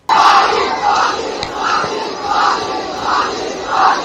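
A large street crowd of protesters in Badlapur chanting in unison, loud rhythmic shouts repeating roughly every half second with a steady roar of voices underneath.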